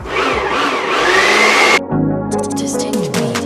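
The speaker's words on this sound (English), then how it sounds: "are you ready for this blender" Kitchen blender whirring loudly and steadily while blending mock tuna paste for lettuce wraps, then cutting off abruptly partway through, followed by music with distinct beats.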